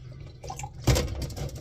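Water poured in a steady splashing stream while brewing kombucha tea at home, starting partway through and running loud and close to the end.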